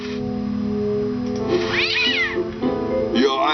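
Cat meowing in the Day of the Tentacle Remastered adventure game, a drawn-out rising and falling meow followed by a shorter second cry over a steady musical background.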